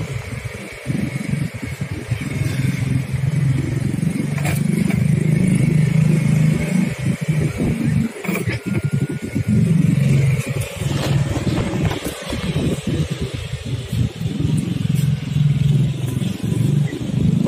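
A tuned Jupiter MP4 130cc motorcycle engine runs close by, a loud, rough idle broken by repeated revving surges over about seventeen seconds.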